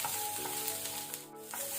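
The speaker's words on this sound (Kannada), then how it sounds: "ಈರುಳ್ಳಿಯನ್ನು ಸ್ವಲ್ಪ ಫ್ರೈ ಮಾಡ್ಕೊಳ್ಳುವ," Chopped onions sizzle and fry in a pan, a soft, steady hiss with faint stirring, quiet and close, with no talking.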